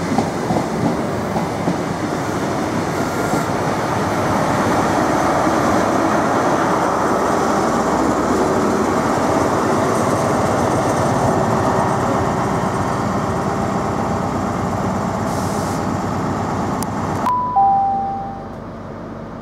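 A Great Western Railway Class 43 HST high-speed passenger train with eight coaches rushes past with a loud, sustained roar and rattling wheels, then cuts off abruptly near the end.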